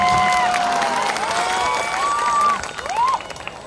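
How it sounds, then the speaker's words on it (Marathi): Rally crowd bursting into applause and cheers, a dense wash of clapping with shouted voices rising over it, loud and sustained before thinning slightly near the end. "यांच्यासाठी टाळ्यांचा कडकडाट"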